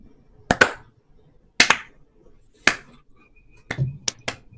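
A cartoon slow clap: three loud, spaced single hand claps land about a second apart, then a few quicker claps follow, close and crisp with nothing else around them.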